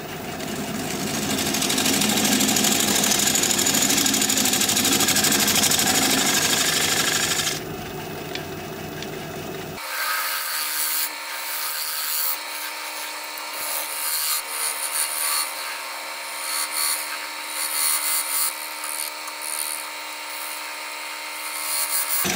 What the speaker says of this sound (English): I'm going to use my 3/8 inch bowl gouge to work on the recess.